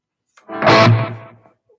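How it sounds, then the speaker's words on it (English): Electric guitar played through a distortion effect, a single loud sustained chord that swells and then fades away on its own with no talking over it. "turn on some distortion."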